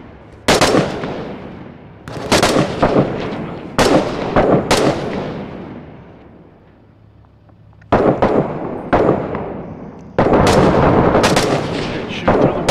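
Loud, close bursts of rifle fire crack out in rapid strings from Six Days in Fallujah, with pauses between volleys and a long echoing decay, and no one speaks.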